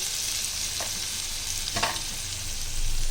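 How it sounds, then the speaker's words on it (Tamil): Mint pepper chicken gravy sautés in separated oil, a steady close sizzle and fry with a couple of brief stirring scrapes of a spoon in the pan, no voices. "ரெண்டு நிமிஷத்துக்கு நம்ம நல்லா வதக்கி விட்டுருக்கோம் இந்த எண்ணெய்லாம் பிரிஞ்சு நல்லா வெளியில் வந்துருக்கு"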